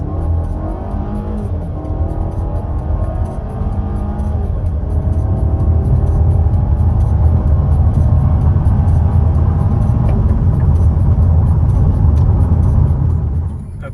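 A Volvo with an open-top MST intake and a RaceChip tune, traction control off in dynamic mode, accelerates hard. The engine roars and rises steadily in pitch as it pulls through the revs, loud and close for the whole run.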